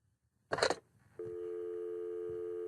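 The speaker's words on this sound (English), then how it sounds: "That sound is a dial tone." A telephone handset is picked up with a brief rattling clatter, then a steady continuous dial tone hums on at even loudness, clear and close, with no speech.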